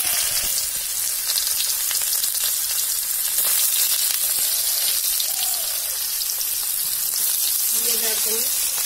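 Onions frying in a pan with bay leaf and spices give a steady, loud hissing sizzle throughout, with light stirring scrapes and a few brief tonal chirps near the end.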